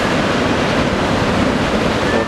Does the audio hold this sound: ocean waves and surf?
yes